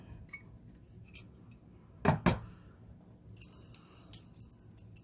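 Keys jingle and clink in short bursts beside a solid steel padlock, with a pair of sharper metallic clanks in the middle and lighter tinkling afterward, close by in a quiet room.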